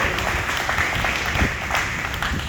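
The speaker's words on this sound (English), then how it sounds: "round of applause for our podium here tonight." A crowd claps for the race podium at the Knoxville Nationals, a steady, dense wash of applause that holds for the whole stretch with no clear voice on top.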